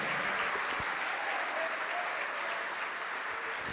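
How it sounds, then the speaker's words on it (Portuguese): A church congregation applauds in a brief, dense burst of clapping, steady and fairly distant-sounding, with no voice standing out over it. "Vamos aplaudir mais,"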